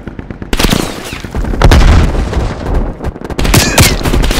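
Dense, loud gunfire in a Call of Duty Black Ops Cold War Domination match after a frag grenade is thrown, with rapid automatic bursts, sharp single shots and heavy booms overlapping continuously at close range.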